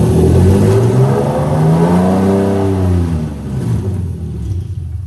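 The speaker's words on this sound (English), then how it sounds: "I'm just going to rev it up a little bit." Close-up engine revving from a Lexus IS300 with a JZ engine, a loud, deep rumble that rises in pitch and then falls back toward idle.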